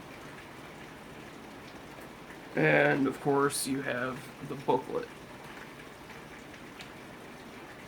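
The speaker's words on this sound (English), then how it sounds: "And that rain is picking up outside." Steady rain falls outside, a soft continuous hiss running throughout, with someone talking briefly in the middle over it.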